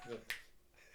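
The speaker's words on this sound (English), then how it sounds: "Snap my fingers in a Z formation" A single sharp finger snap sounds close up against a quiet background, brief and crisp, with a faint trace of a voice around it.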